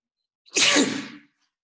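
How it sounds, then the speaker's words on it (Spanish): One sharp, loud sneeze from a person in a classroom lecture, close and clear, lasting under a second against near silence. "Voy a estornudar, perdón."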